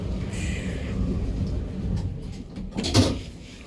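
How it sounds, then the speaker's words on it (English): The doors of an old Keighley lift in Uxbridge slide shut against a low hum of machinery, ending in a single firm thud as they meet, close by and with no talking. "Doors about to close."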